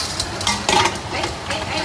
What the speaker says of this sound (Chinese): 锅中下芝麻油、葱姜辣椒下锅，往锅中一带